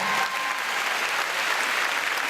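Comedy show audience giving applause to the evening's organizers and volunteers, a dense, steady wash of clapping from a large crowd, loud and continuous throughout.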